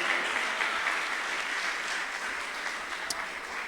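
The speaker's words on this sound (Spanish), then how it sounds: "Demos el aplauso a nuestro Dios." Church congregation applauding during a sermon, steady mid-level clapping from a large group that holds evenly and tapers slightly toward the end.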